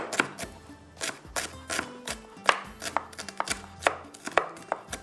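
Onion being finely chopped with a knife on a board for Hyderabadi kadhi, a fast run of sharp, close taps in an uneven rhythm, loud and alone with no talk.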